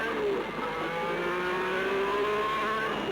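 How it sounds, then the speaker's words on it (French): Alpine Renault race car accelerating out of the slow Mulsanne corner at Le Mans 1978, a loud continuous engine roar with rising harmonic pitch as it climbs through the gears, no speech over it. "Voici maintenant le virage le plus lent, celui de Mulsanne, et à nouveau, c'est l'accélération."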